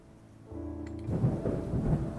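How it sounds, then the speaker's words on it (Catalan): Thunder rumbles outside as a sound effect in a tabletop role-playing game: a quiet lead-in swells into a deep, rolling rumble with rain, heavy and sustained to the end, with no voices. "són trons a fora"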